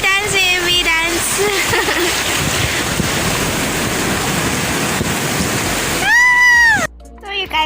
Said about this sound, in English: Now they're just chilling here in the small little pool that is linked to the beach. Water is running